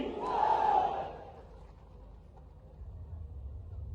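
A large crowd at a political rally in Dabra, India, shouts the short Hindi chant "Bharat Mata ki" response in unison, loud and reverberant, then fades into a quieter hum of distant murmuring.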